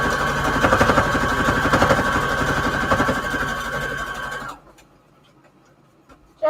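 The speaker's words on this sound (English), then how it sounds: "I'm just going to do a zigzag stitch down the middle here" A sewing machine runs a zigzag stitch through fabric ruffles on an index card, giving a steady, fast mechanical whir with rapid needle ticks for about four seconds before stopping abruptly into near silence.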